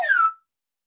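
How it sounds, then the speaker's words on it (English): Slide whistle sliding downward like a falling acorn, one short bright whistled tone gliding down in pitch for about a third of a second, then silence. "This one, I'm going to use my slide whistle."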